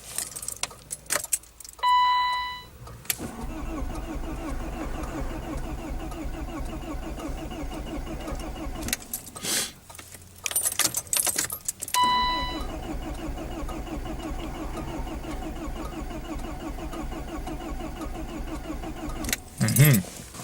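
A car's engine cranks repeatedly without catching, with bursts of starter whirring separated by pauses and a jangle of keys in the ignition, close and fairly loud.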